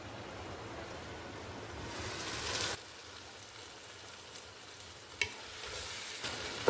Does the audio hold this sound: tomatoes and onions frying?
yes